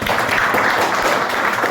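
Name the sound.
audience applause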